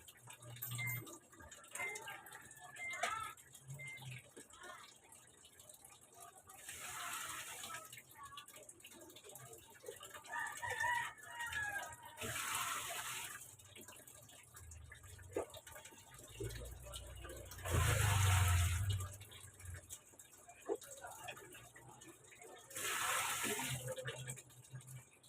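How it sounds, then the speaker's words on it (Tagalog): Water gushes into a basin for the final rinse of laundry softened with Downy, coming in several separate pours a few seconds apart, with a person talking between and over them. "Yan, nilalagyan natin tubig ano."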